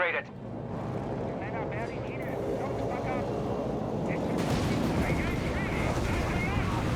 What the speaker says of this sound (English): we got the Typhoons downloading a massive rocket payload